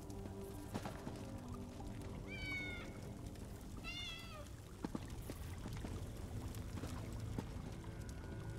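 A cat in Elder Scrolls Online gives two short, distinct meows a couple of seconds apart, fairly faint over a constant watery, flowing ambient bed.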